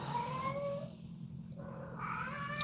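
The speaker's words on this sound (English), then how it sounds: "My cat is over here meowing" A pet cat meows in a long, warbling, song-like cry that breaks briefly and resumes, close by and fairly quiet, with no talking.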